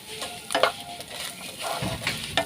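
Egg and curry leaves fry in a pan for fried rice, a moderate sizzle broken by several scraping stirs and light clinks of a spatula against the pan.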